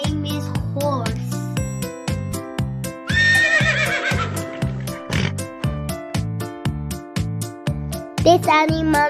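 A horse whinnies with a rising, quivering call over a steady backing of clip-clop hoofbeats and bouncy children's music, loud and close, in a farm-animal lesson for kids.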